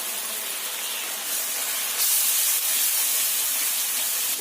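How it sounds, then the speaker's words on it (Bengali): Ground coriander, cumin and Kashmiri chili powder sizzle in hot oil during frying for a fish curry, making a loud, continuous hissing that swells partway through. "মশলার সঙ্গে সব কিছু খুব ভালো করে কষিয়ে নিতে হবে"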